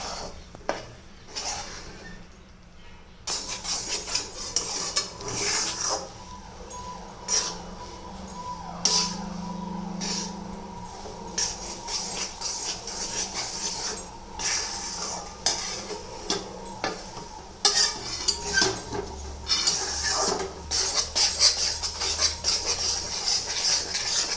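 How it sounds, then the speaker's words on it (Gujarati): Wheat flour roasts in hot ghee over a low flame while a spoon stirs and scrapes steadily around a metal pan, making repeated close scraping strokes and clinks over a soft background sizzle. "તેમાં આપણે આ 2 વાડકી લીધેલો ઘઉંનો લોટ એડ કરી દેવાનો છે અને તેને ધીમી આંચે શેકવાનું છે."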